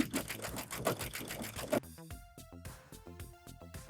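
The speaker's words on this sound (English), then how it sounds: "So now I'm ready to serge together these shoulders." A serger sewing machine stitching the shoulder seams of a thrifted sweater, a rapid close mechanical chatter that runs briefly and then slows to a sparse, rhythmic clacking.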